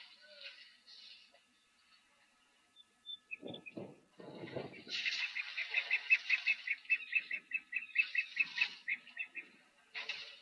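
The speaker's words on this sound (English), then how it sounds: "From Natal spurfowl there, making a bit of a racket." Natal spurfowl calling at a waterhole, a harsh, rapid run of loud cackling notes that builds into a racket, with some softer bird calls and low sounds before it.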